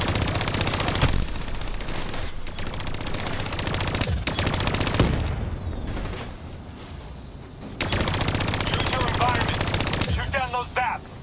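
Turret gunfire in Call of Duty Black Ops III, with loud sustained bursts of automatic fire in long runs, a brief lull, then more heavy firing and clattering game effects.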